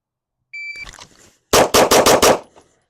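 Five sharp gunshots crack out in a quick, fairly even string during a single-retention holster draw drill, loud and close, after a brief lower clatter of the draw.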